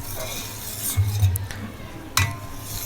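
Metal spoon stirring and clinking against a pot of sawaia (vermicelli) cooked with cardamom and raisins, a few soft scrapes and two brighter clinks over a low steady simmer.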